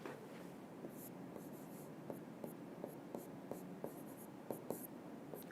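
Marker or chalk writing on a board during an electrical engineering lecture: a run of short, quiet scratchy strokes and taps in a steady irregular rhythm over faint room hiss, with no talking.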